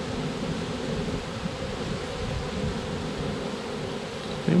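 A dense, steady drone of many bees buzzing up close on a heavy hive frame, constant in volume, with no talking.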